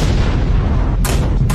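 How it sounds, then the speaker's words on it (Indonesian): Dynamite detonates in an anime action scene, heard as a loud, sustained, dense roar of blast noise with a sharp fresh burst near the end and no talking. "melihat ledakan itu"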